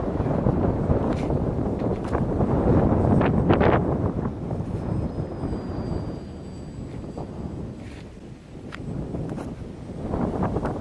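Wind picks up suddenly outdoors, rumbling and buffeting against the microphone in strong surges that ease off briefly and then return.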